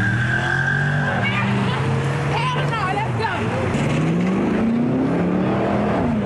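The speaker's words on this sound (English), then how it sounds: "Cars racing against oncoming traffic." Cars in an illegal Los Angeles street takeover race against oncoming traffic, engines whining and rising in pitch over a constant roar as tires squeal, loud and continuous throughout.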